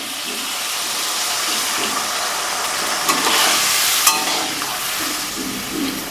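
Mango dal simmering in a pot of water with chunks of mango, a steady bubbling hiss with a few brief louder pops and clinks, close and continuous with no talk.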